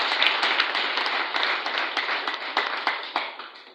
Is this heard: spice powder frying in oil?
no